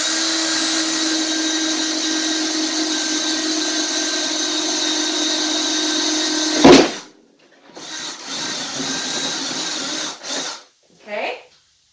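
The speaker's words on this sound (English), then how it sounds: "So just take your drill," Power drill boring a hole in plastic for a homemade lamb bar feeder, a steady loud whir running for several seconds before stopping, then a few short bursts of drilling follow.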